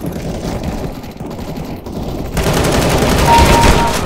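Rifle gunfire in Counter-Strike: Global Offensive, a loud dense stream of rapid shots and fusillade-like bursts that swell in intensity partway through, with game sound effects mixed in.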